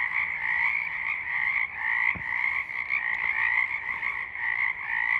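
Frogs croak loudly at night in cold weather, a dense continuous chorus of trilling calls with one brief sharp knock midway and no voices.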